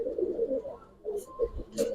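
Giribaz pigeons coo up close, a string of soft, rolling throaty calls in short bouts with brief pauses between, mixed with a few light rustles and taps.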